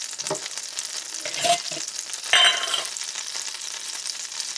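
Oil and butter sizzling in a pan, a bright steady crackle with louder bursts and scraping as the pan is moved, close and alone without talking.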